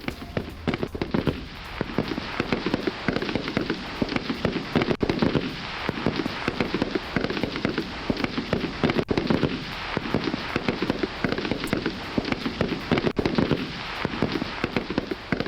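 Ukrainian soldiers fire from trenches toward Russian forces, and dense rapid gunfire crackles and pops without a break. The shots come thick and continuous and sound fairly close, with no talk over them.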